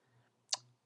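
A single sharp computer mouse click sounds while working in a Cisco BE6000 server configuration interface, brief and close in a quiet room.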